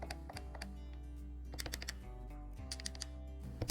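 Keypad buttons on a Flyingvoice IP phone pressed in quick, irregular clicks while a name is typed in, close and fairly quiet over a low steady hum.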